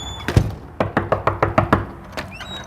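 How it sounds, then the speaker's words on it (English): Knocking on a door during dog crate and mat training, one firm knock followed by a quick run of about seven evenly spaced, close, loud raps, with no talking. "I'm going to go outside and knock on the door."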